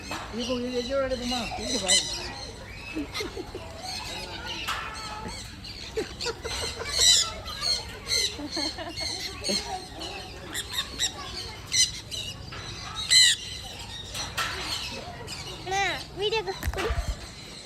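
Birds at the Trichy bird park squawk repeatedly in sharp, harsh bursts from close range, while people talk throughout.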